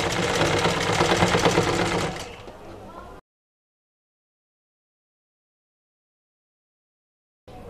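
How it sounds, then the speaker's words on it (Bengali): A sewing machine stitches blouse fabric for a size 40 blouse, running loud and steady for about two seconds before easing to a softer whir, then cutting abruptly to silence, with a brief return at the very end. "তো এখন আমি মেশিনের মাধ্যমে সেলাইটা করে নিচ্ছি"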